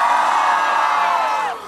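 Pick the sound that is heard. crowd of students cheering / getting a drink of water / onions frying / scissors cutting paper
crowd of students cheering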